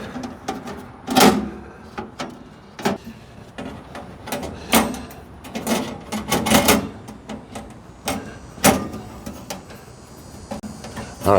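Metal grill grate supports for a Big Horn infrared steak grill being fitted onto pegs, a run of irregular close clanks, scrapes and knocks of metal parts being handled and seated.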